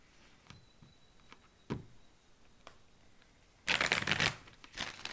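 Tarot cards being shuffled in a few separate bursts: light clicks and ticks at first, then a loud, dense riffle of cards near the end, close by with no talking.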